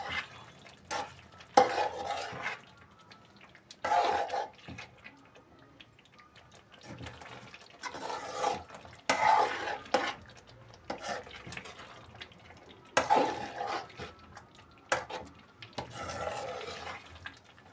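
Chicken curry with chicken garam masala being stirred in a pot, giving intermittent bursts of scraping and liquid stirring, close and moderately loud, separated by quieter pauses.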